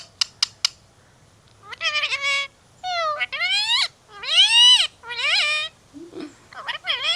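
Pet parrot imitating a cat's meow, several drawn-out, whining meow-like calls in quick succession, close and clear against a quiet room, preceded by a few sharp clicks.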